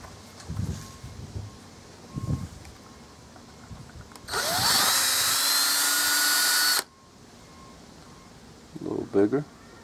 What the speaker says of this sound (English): so have to drill a hole